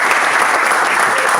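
Loud, dense crowd applause at a year-end political rally in Argentina, close and continuous across the whole short stretch with no pause.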